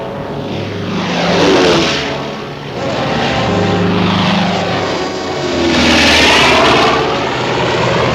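Propeller engines of military aircraft droning at the Moresby airstrip as paratroopers are loaded for their first combat jump, a loud steady roar that swells and fades in slow waves, with no voices.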